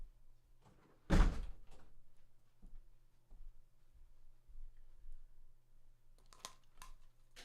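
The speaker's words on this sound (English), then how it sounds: "We can close the door now." A door pushed shut indoors, one firm thud with a brief rattle, followed by scattered small knocks and clicks over a low hum, with no talk.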